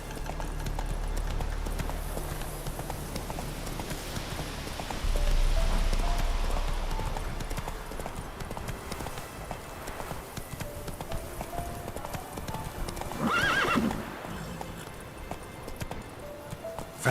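A horse gallops in the open world of the video game Witcher 3: a continuous, fairly loud rhythmic clip-clop of hooves carries through, with a louder surge partway and another near the end.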